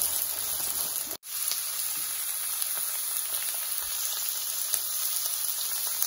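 Two medium sliced onions sizzling in a pan as uthappam topping, a steady, fairly quiet hiss of frying with faint crackles and one brief gap, heard up close with no voices.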